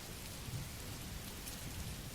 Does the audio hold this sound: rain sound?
yes